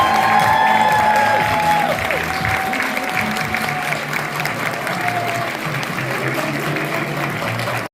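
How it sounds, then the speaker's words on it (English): Audience applause for designers at Vogue Knitting Live New York 2025, a steady, dense roar of clapping from a large crowd that holds loud and even for the whole stretch with some cheering mixed in. "Please stand up and receive a round of applause."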